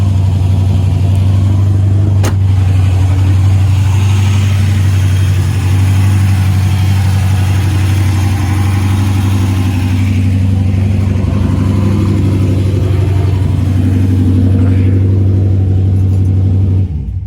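A Chevrolet Camaro engine idles loud and close, a steady deep rumble with a constant low throb that holds for the whole stretch without revving.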